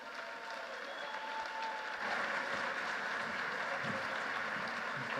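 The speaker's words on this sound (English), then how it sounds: "let's give a round of applause to Harris Whitbeck" An audience applauds a speaker, Harris Whitbeck, at a stage event: a steady wash of clapping from many hands that swells a little partway through and carries on to the end.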